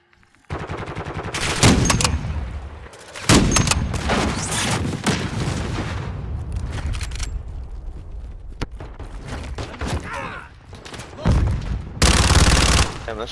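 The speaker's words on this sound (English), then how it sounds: "this shotgun's got a little punch to it" Gunfire from a video game shotgun in Modern Warfare II team deathmatch, several loud blasts in bursts amid dense battle noise, with heavy shots near the start, middle and end.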